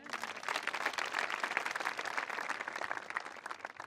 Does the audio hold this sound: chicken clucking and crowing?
no